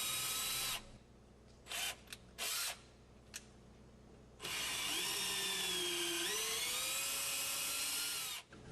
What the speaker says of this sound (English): Now I'm going to use a 1/4-inch drill bit and clean out the 2 front ports on the manifold itself.